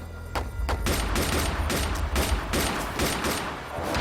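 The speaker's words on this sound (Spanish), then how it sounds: "¡Les están disparando!" Gunfire from an ambush in a dramatic scene: a dense, loud fusillade of overlapping shots and bursts, rapid and nearly continuous for several seconds, close and alone with no speech.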